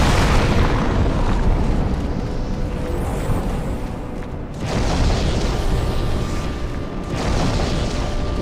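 Heavy booming blasts from the Demon's Souls video game, a loud sustained rumbling roar that cuts off abruptly twice and resumes, with no talking.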